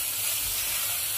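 Radish and other hard vegetables frying lightly in a pan for a mixed vegetable curry, a soft steady sizzle with faint stirring, quiet and continuous for a moment.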